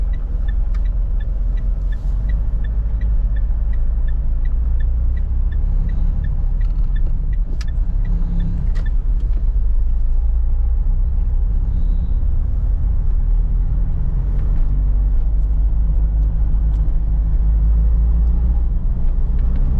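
A Mitsubishi Montero with a manual gearbox climbs an incline, its engine giving a steady, loud, low rumble inside the cabin with faint rattles and clicks throughout and no voices.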